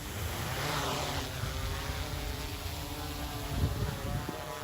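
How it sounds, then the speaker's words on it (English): A police surveillance drone flies over a university campus, giving a steady whirring propeller drone that holds at moderate loudness throughout, fairly close and without talk. "The University Police Department has introduced drone surveillance, and reporter Trinity Rogers has more about"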